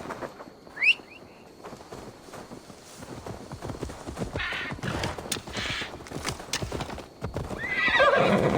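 A horse in Assassin's Creed Valhalla runs in circles, its hooves clip-clopping in a quick rhythm, with sharp neighs and whinnies breaking through, one early and another louder near the end.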